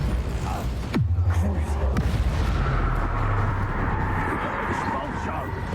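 A Bombarda spell blast in the video game Hogwarts Legacy goes off as a sudden loud boom with a deep rumbling tail, followed by a second thud about a second later and a lingering low roar of combat.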